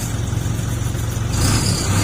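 A vehicle engine with a modified exhaust revs, giving a steady loud low drone that swells louder toward the end of the short burst.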